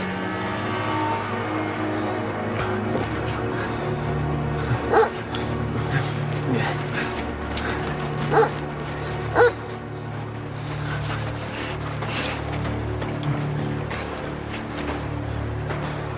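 Tracking dogs bark, yip and whimper excitedly over a steady low background rumble, with a few louder sharp barks standing out as they search for a scent.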